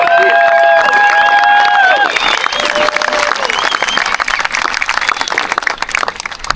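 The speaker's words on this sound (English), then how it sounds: "I think we just need to give them a round of applause" A beach crowd gathered for a paddle-out memorial breaks into loud, sustained applause and cheering, swelling as a voice fades out, with scattered sharp claps continuing throughout.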